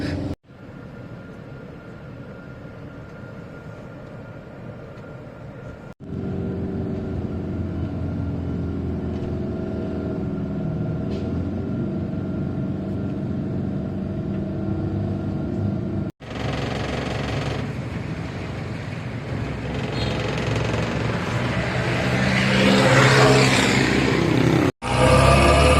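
A bus engine drones steadily and loudly on the road from Koh Samui to Pattaya, a continuous low rumble that swells slightly with a few abrupt breaks, and no one talks.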